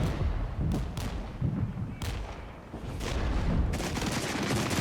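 DPICM cluster artillery strikes in the Regiments war game crackle as repeated dense bursts of small blasts, loud and rumbling, with sharp impacts arriving every second or so over a constant low roar.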